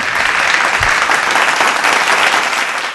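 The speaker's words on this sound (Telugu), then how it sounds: "Please welcome him with a grand applause." A studio audience breaks into loud, sustained applause to welcome a music composer onto a TV show stage: dense, close clapping that fills the whole stretch without pause.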